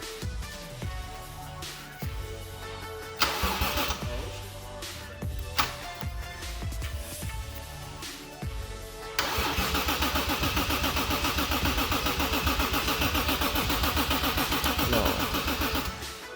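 A car engine is cranked by its starter during an engine swap, first in short separate bursts, then in a long continuous grinding run, close and fairly loud.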